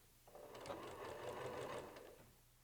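A sewing machine with a walking foot stitches a quilt in one short, close run, a steady whirring hum that rises and fades over about two seconds.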